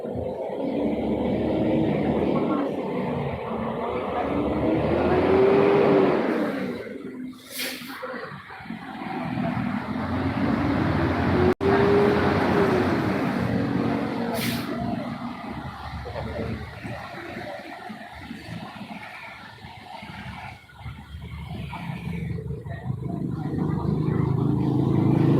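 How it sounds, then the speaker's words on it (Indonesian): An ALS 341 bus engine revs in long rising and falling surges at a Palembang bus terminal, loud and near, easing off before building again amid traffic noise. "Mobil ALS kayaknya lagi digas."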